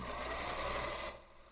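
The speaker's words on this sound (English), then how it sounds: "Hard to sew standing up." Sewing machine stitching fabric for a table runner, a short, close burst of rapid mechanical whirring for about a second that then stops, with no talking.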